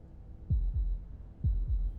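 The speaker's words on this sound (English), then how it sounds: "That was the sound of a heartbeat" Slow heartbeat in Slay the Princess, two pairs of deep, muffled lub-dub thumps with a faint high tone above, heard alone against quiet.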